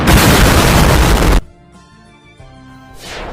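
A meteor-fall spell sets off a loud, sustained explosive boom that roars for over a second, then cuts off abruptly into a quiet, tonal musical tail.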